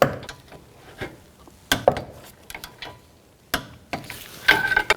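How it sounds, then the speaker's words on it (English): Torque wrench clicking and ratcheting as a castle nut on an outer tie rod end of a 2016-20 Kia Sorento is tightened to spec, sharp metallic clicks in scattered bursts, close and fairly quiet, no talk. "Now we can torque this nut to 25 foot-pounds."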